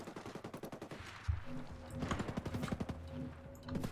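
Gunfire in the video game Ghost Recon Breakpoint, steady rhythmic automatic bursts at moderate volume with a sharper shot partway through, game sounds humming under the shooting.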